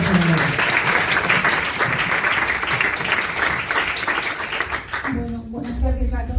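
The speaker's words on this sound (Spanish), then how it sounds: "pues un aplauso para ellas." An audience applauds, with sustained dense clapping for several seconds that then fades as a voice begins speaking near the end.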